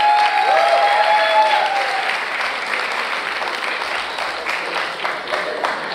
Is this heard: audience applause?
yes